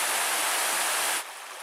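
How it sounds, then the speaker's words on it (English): Steady broadband rush of Trappers Falls, a waterfall and stream along a Porcupine Mountains backpacking trail, loud and close, then dropping abruptly to a softer, more distant wash. "Wow, check out this awesome waterfall."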